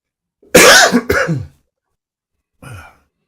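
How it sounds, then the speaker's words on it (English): Two sharp, harsh coughs in quick succession, close up, followed after a pause by a softer third cough. "Fingers crossed this cough disappears soon."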